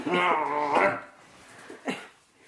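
A small dog barks and whines near the mic in a house, a couple of short yaps early on followed by a fainter yip, with little talk around it.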